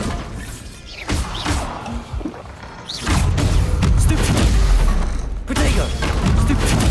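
Bombarda explosion spell cast in Hogwarts Legacy combat: booming blasts and crashing impacts over a dense, loud rumble that swells after a quieter start, with brief talk.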